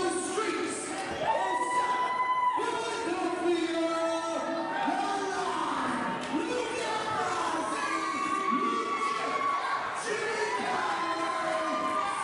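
A wrestling crowd at a WXW C4 match roars and cheers continuously, a dense wash of shouting voices that never lets up.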